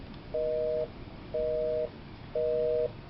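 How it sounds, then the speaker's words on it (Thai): Three evenly spaced busy-style beeps, each about half a second long, sound on an IP-PBX phone call run on a Raspberry Pi after the line has been cut, clear and alone over faint background hiss. "เบอร์สองร้อยก็จะเป็นสัญญาณสายตัดไป"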